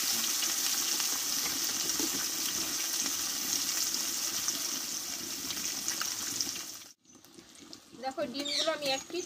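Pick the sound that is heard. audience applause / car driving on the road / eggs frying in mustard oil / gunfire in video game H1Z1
eggs frying in mustard oil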